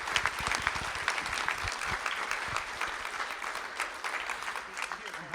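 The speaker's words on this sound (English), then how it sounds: "Let's give Keith a round of applause." An audience at a school district board of trustees meeting claps steadily, with dense, continuous applause that stays fairly even for several seconds in an indoor room.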